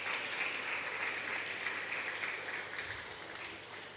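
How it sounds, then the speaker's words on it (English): Conference audience applauding together in a hall, a broad wash of clapping that holds steady before gradually fading toward the end. "please give yourselves a round of applause"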